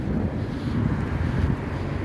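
Wind buffeting a microphone outdoors in Belgium, a loud steady low rumble with no speech.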